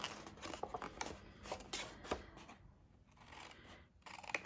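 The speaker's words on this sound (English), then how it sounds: "what we want to do is cut down to that score line where we've scored them" Scissors cutting 12 x 12 inch paper down to a scored line for a gift box: a quick run of close, crisp snips and rustles, a pause, then a few more cuts, with no talk.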